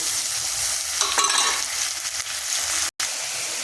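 Spices with onion, chili, ginger and salt frying in oil alongside fried potatoes, giving a dense, steady hiss of sizzling with a brief burst of stirring and one short break near the end, close and loud.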